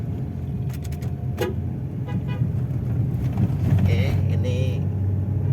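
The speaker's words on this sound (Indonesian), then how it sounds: "RPM naik ke 3000, hampir 4000, dia masuk ke gigi 2." A small-engined Toyota Agya with an automatic gearbox climbs an uphill road, its engine droning steadily and rising in revs, with a horn toot early on and someone speaking briefly over it.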